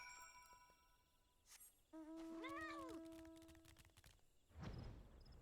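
A cat meows once, clear and drawn out, in Final Fantasy XIV, set among soft chimes and tinkling game effects in an otherwise quiet scene.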